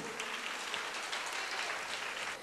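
A church congregation claps together in praise, a dense, steady wash of many hands held at an even level throughout, with no speech over it.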